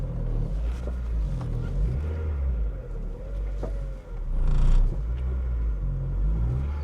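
An Acura RSX engine idles with a deep, steady rumble close by, low and even, with a slight swell in loudness near the end.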